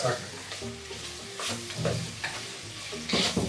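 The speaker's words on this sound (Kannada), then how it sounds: "ಟೊಮೆಟೊ ಒಂಚೂರು ಫ್ರೈ ಆಗಬೇಕು" Tomatoes fry in a pan for mushroom pulao, a soft close sizzle broken by the clink and scrape of stirring, fairly quiet with no talking.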